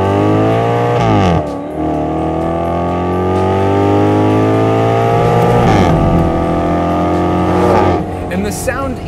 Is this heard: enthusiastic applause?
no